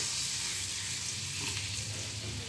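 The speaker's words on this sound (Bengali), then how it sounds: "মাখনের মধ্যে একটু ভাজা করে নেব" Garlic frying in butter in a pan, a steady close sizzle with a soft crackle running throughout.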